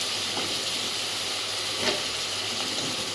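Potatoes dropped into a pan of frying spice paste, a steady broad sizzle and hiss running throughout with a couple of brief louder spits, heard alone with no talk.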